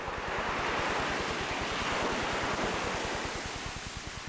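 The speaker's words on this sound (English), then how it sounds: "he used to tell about the waves, and they fascinated him" Ocean waves coming in against a fort wall, a continuous loud surf roar mixed with wind buffeting the microphone, with no voices.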